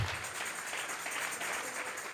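A church congregation applauds, giving dense, steady clapping throughout, moderately loud and without voices over it.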